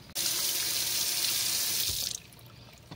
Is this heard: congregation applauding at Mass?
no